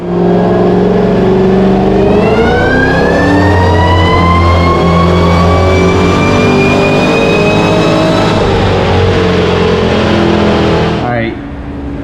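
A 700-horsepower Ford Shelby GT500 engine roars at full throttle on a dyno, its pitch climbing steadily for several seconds before abruptly dropping off.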